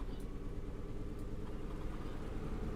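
Antonov An-2 radial engine running with the cockpit windows open in Microsoft Flight Simulator, a dense, steady low rumble that pulses continuously without a break.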